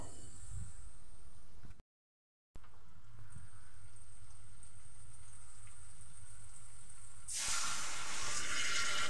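Fried potato pieces stirred into hot spice masala in a pan for potoler dhoka, a soft steady sizzling hiss that cuts out briefly, resumes, then swells into a louder, brighter sizzle at the end.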